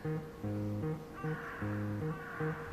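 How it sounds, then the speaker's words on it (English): A bird in the video game Dropsy gives a run of quiet, tonal, stepped cawing calls in short repeated phrases with brief gaps, played faintly on its own. "That noise that the bird makes, I'm pretty sure is the exact same noise that the bird Digimon make in Digimon World 1"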